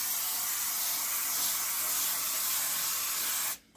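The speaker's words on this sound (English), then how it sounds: "spray, nonstick spray." Nonstick cooking spray hisses from a can onto a baking pan in one continuous burst of about three and a half seconds, close and steady, then stops abruptly.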